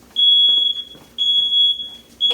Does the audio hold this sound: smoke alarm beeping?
yes